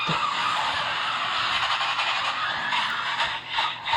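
Race cars at the Busch Clash at Daytona skid in a big wreck, a loud sustained broadband roar and tire scrub lasting several seconds, fading slightly near the end.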